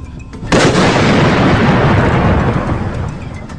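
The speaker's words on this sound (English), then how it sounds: "What was seen, heard, and recorded were very well contained blasts having a booming or rumbling quality." A booming blast at the World Trade Center on 9/11 starts with a sudden loud onset, then a deep, sustained rumble that slowly fades. No voices are heard.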